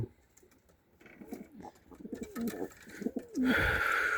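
A pigeon coos close by in several soft, throaty rolling calls, joined by rustling and a louder flutter at the end.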